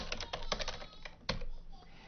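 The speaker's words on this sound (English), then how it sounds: "I just hit the tab key and the file name auto-completed" Quiet computer keyboard typing in a Linux shell: a short burst of several crisp key clicks, a pause, then one more sharp keystroke, close and alone.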